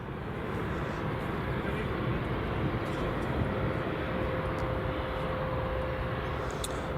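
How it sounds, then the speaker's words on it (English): A Jet2 Holidays Boeing 737-800 taxis toward the runway at Edinburgh Airport, a steady distant jet engine whine and rumble holding level throughout, with a faint thin tone running over it. "Another Jet2 Holidays 737-800"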